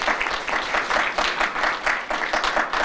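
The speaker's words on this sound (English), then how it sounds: "So give yourselves a round of applause." Audience applause at a campus talk at Hudson Valley, a full round of clapping that swells and dips in loose waves, close and loud throughout.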